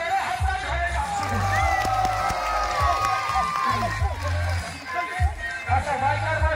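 A crowd cheers and claps for a boy at an outdoor Yamaha RX100 bike stunt show, a steady hubbub of voices and shouts over a low rumbling drone, with people talking throughout.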